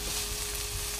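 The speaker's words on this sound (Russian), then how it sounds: "мы закинули наши лук и морковь на уже разогретую сковородку" Chopped onion and carrot sizzle steadily in a preheated frying pan, a dense close hiss with no talk.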